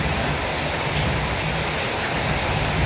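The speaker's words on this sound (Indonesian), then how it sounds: "pada saat ini sedang hujan, mulai dari tadi ya, dari sore tadi hujan sangat deras" Heavy evening rain pours down in a dense, steady roar that fills the clip without a break.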